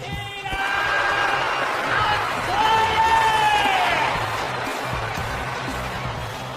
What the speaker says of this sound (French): Mesdames et messieurs, applaudissez bien fort.